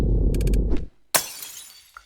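Glass shatters in the Of the Devil video game: a loud, sharp crash with a bright spray of tinkling fragments that rings out and fades, following a low rumbling bed and a few quick clinks.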